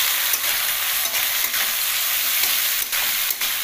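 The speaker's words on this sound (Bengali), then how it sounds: "কুচনো পেঁয়াজটা আমি দিয়ে দিলাম" Chopped onions sizzle and fry with about a kilo of mutton in a pan for Bengali-style mutton kosha, a constant loud hiss broken by a few stirring scrapes.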